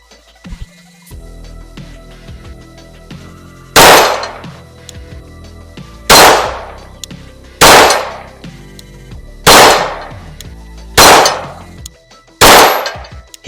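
A Glock 19X hybrid pistol built from Glock and PSA parts fires six sharp, loud gunshots spaced about one to two seconds apart, each followed by a short ringing decay. A faint clatter fills the gaps.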